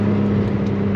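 A BMW G80 M3 with a full titanium catless exhaust drones steadily at close range, loud and raspy, for a brief moment.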